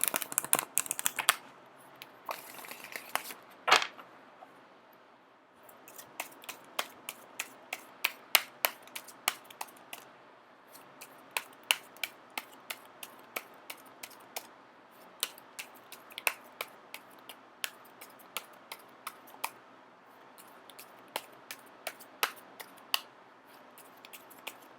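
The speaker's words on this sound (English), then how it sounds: "I am going to shuffle for a little bit until the first card pops out" Rapid papery riffling and crisp snapping clicks of tarot cards being shuffled, in short bursts with brief pauses, close and fairly quiet, no voices.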